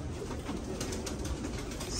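A Kakite pigeon coos softly and close by, a low murmuring call over a faint hiss of background noise.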